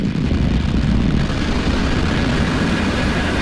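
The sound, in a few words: SpaceX Falcon 9 rocket liftoff roar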